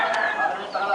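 Chickens on a farm, including a young hen among newly hatched chicks, give short clucks and calls close by, with a person talking over them throughout.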